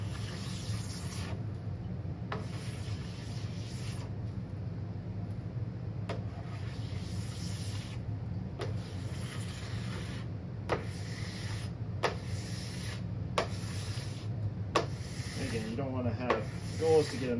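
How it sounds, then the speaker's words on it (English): A snowboard base scraped clean of wax in repeated strokes, each pass a dry rasping scrape separated by short pauses, with a low steady hum beneath and a few small clicks near the end. "Getting all this wax off."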